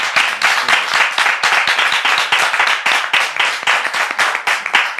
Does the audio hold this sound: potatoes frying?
no